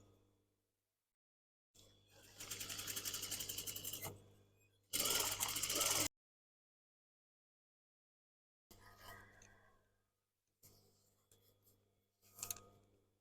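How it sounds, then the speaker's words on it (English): Sewing machine stitching a tassel onto the bottom of a pair of jeans, in short bursts of running whir separated by pauses, close and fairly loud with no talking. "I'm going to stitch just at the bottom of where this thickness is for the tassel."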